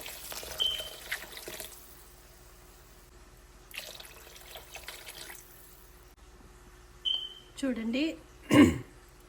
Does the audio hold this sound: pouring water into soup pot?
yes